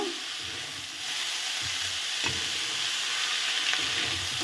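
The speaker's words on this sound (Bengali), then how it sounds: "এখন আমি দিয়ে দেব কেটে রাখা শাকগুলো, এর মধ্যে এখন আমি দিয়ে দেব।" Chopped greens fry in a pan, giving a soft continuous sizzle with faint stirring scrapes now and then, heard up close with no one talking.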